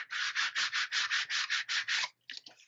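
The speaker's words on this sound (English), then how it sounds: "Turn this over and burnish it." Paper on a pocket folio album is burnished by hand in about eleven quick, even rubbing strokes, close and crisp, followed by a few lighter scrapes.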